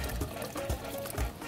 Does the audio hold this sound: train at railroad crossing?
no